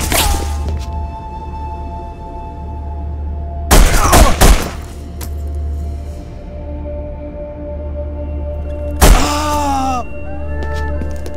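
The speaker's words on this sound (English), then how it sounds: "Stay here till the gunfire stops." Two separate bursts of rapid gunfire in The Punisher video game's meat packing plant level, each lasting under a second, break through a steady low hum with quiet stretches in between.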